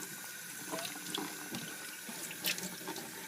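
Cold water running steadily from a sink tap while a baseball hat is rinsed clean of shampoo, a soft continuous splashing with small irregular spatters.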